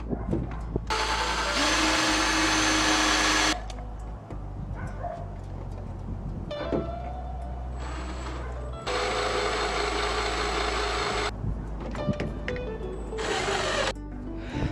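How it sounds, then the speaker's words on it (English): A power drill bores into a stuck bolt on a Jeep to make room for an extractor, running loud in several whining bursts with short pauses and clattering between them. "I'm gonna drill a hole in it, put the extractor in it, and torque it out"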